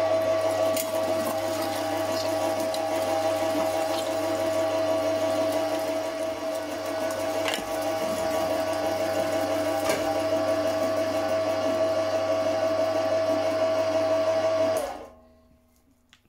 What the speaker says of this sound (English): we need to put our trim through the mincer